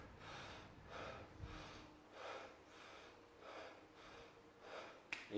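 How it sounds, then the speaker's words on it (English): Deep connected breathing during a morning breathing exercise: slow, rhythmic full inhales and exhales repeating about seven times, close and quiet, with no talking. "you breathe in deep, and you let the air fall out"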